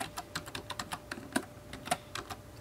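Text is typed on a computer keyboard while setting up a Raspberry Pi: a run of light, close key clicks in an uneven rhythm, with a couple of sharper taps standing out, with no voice over them.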